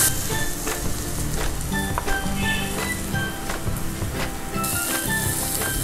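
Onions with a pinch of salt sautéing in oil for country chicken biryani, a close, lively sizzle with repeated scraping stirs and a brief surge of hiss toward the end.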